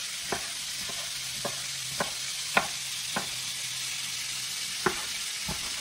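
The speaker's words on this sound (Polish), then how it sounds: "Mięso się odsmaża" Meat browning in a pan for a Roman pot one-pot dish, a steady hiss of sizzling fat broken by a few soft clicks and taps of stirring, close and continuous, with no talk.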